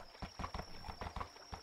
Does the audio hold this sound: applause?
no